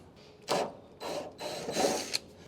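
A ratchet clicking in three bursts as a bolt is tightened on an FC Holden during repair work, close and fairly loud with short pauses between strokes, no voices.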